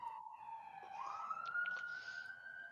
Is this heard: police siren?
yes